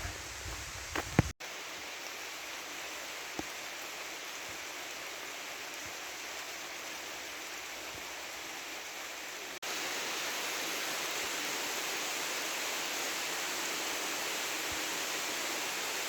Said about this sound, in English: The rain's not letting up.